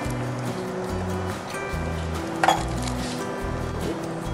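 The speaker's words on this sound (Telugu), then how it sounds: "ఇంకా వాటర్ వేస్తున్నాను" Water poured steadily into a cooking pot of tamarind water for a Hyderabadi dalcha, making a continuous splashing rush with a brief metallic clink partway through.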